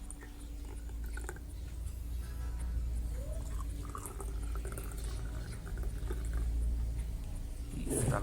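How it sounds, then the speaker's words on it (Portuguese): Water poured steadily from a vessel into two containers, filling each to about halfway during a classroom seminar demonstration; a continuous, moderately quiet gurgling pour with no talking over it. "vamos adicionar água até mais ou menos na metade do nosso recipiente"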